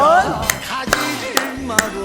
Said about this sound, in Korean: 오른손 왼손 박수 치고 왼손 오른손 박수 치고